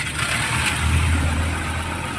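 A Toyota Camry engine with a faulty ignition coil runs after a restart, a close steady mid-pitched hum with a slight swell in the middle, uneven low rumble underneath, no speech.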